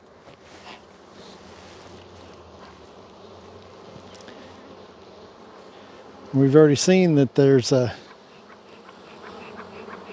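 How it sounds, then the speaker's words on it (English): Dense, steady buzzing of many bees swarming around beehive frames, continuous and close throughout, with someone talking briefly over the hum partway through. "I'm not going to go any further because there's a lot of bees."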